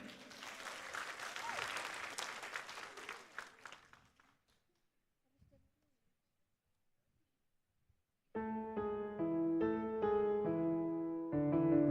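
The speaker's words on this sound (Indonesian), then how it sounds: "Berikan tepuk tangan yang meriah." A graduation ceremony audience claps for a choir's regional song, loud dense applause that fades to near silence before music begins.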